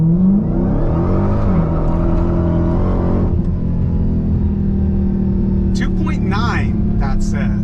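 A Dodge Challenger Hellcat Redeye Super Stock launches hard in a 0-60 run, its engine roaring loud and close with rising gear-driven whine, then settling into a steady rumble while a voice talks briefly near the end.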